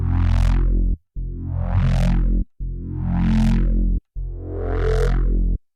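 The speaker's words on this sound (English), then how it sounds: "You can also do detuned sounds that actually have more stacks but less detuning." Four sustained detuned sawtooth synth bass notes from stacked voices with light detuning, each held about a second and separated by short gaps. A filter sweep rises and falls within every note, giving a thick, talking quality.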